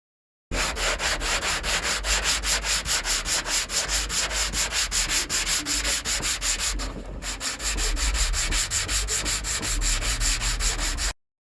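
A JTCAN mini round sanding block is rolled back and forth through a curved reverse contour, producing rapid, even, rhythmic rasping strokes up close, with a brief pause partway before the strokes resume.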